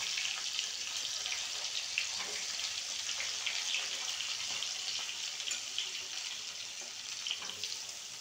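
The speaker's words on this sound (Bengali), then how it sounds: "এবার আমি আলুগুলোকেও একই রকমভাবে ভেজে নেব।" Potato pieces frying in oil for a home-style chicken chorchori, giving a steady, fairly quiet hiss of sizzling that runs unbroken throughout with small crackles and no voices.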